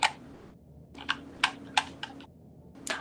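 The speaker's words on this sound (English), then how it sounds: "I gotta use this terrible little keyboard that came on my PC" Clicky keystrokes on a small, cheap built-in PC keyboard, typed in a few sparse bursts of separate taps, close and fairly crisp, with short pauses and a faint background hum.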